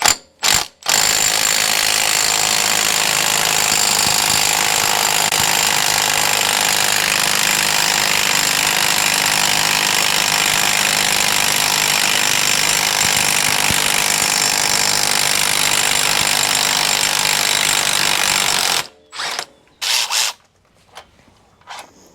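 Loud, continuous mechanical rattling of a tool spinning off a big 36mm axle nut through a chrome-plated socket during an RCV axle job, running unbroken for most of the span before stopping into a few short bursts.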